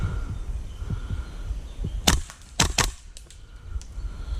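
Airsoft gun shots at an outdoor junkyard skirmish: three or four sharp, close cracks in quick succession, following soft footsteps and rustling.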